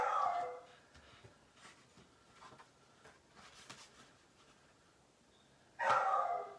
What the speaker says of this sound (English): He will just stand behind me and bark.